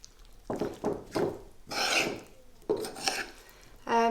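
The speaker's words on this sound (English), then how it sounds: "Okay, so we're just going to give this a little mix." Chicken being mixed with spices in a bowl by hand or spoon: a few close, soft wet rubbing and scraping strokes in short separate bursts, ending in a brief clink of utensil against the dish.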